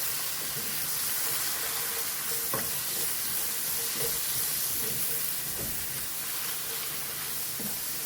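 Cabbage sautéing in a hot pan for bacon fried rice, a continuous bright sizzle and hiss with occasional soft scrapes and taps of stirring, close and steady throughout.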